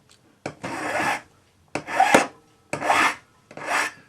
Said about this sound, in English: Use your saw and then file the ends flat.